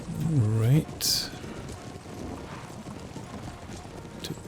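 Horse archers gallop in the battle game Empire: Total War, a horse neighing loudly at first, followed by a steady stream of hoofbeats and battle noise in the background.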